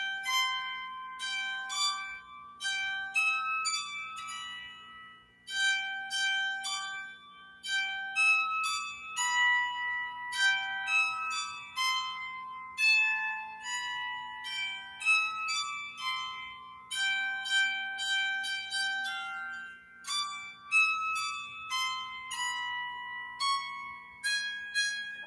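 A plucked folk instrument picks out the Jingle Bells tune in bright, ringing notes, phrases starting and stopping as the player tries again, close and clear with no voice.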